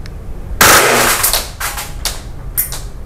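An airsoft rifle fires in burst mode, a loud crack of rapid shots followed by several shorter bursts spaced roughly half a second apart, close to the listener with no talking over them.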